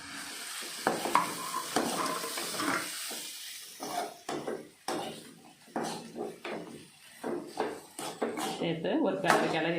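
Boiled chana dal and mashed potato are stirred together in a pan for kurma, with repeated scraping, clattering strokes in an uneven rhythm, close and fairly loud, with a voice at times.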